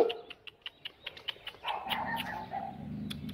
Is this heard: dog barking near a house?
yes